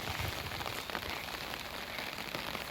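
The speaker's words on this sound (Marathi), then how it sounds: "पाऊस पडतोय, रिमझिम पडतोय" Light drizzle falls over open farm fields, a soft, even patter of fine raindrops that continues without a break.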